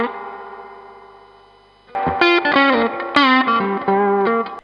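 Electric guitar through a Keeley Oxblood overdrive pedal on its magical-diodes clipping setting: a faint sustained chord gives way to loud, crunchy distorted notes and chords played alone in a short phrase.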